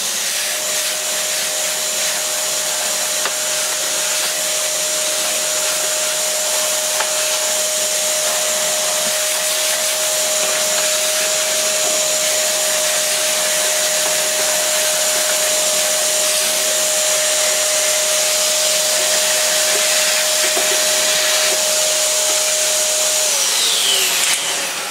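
A Dirt Devil Titan vacuum cleaner runs continuously with a loud, steady whining hum and airflow rush, a constant drone for the whole stretch before it shuts off near the end.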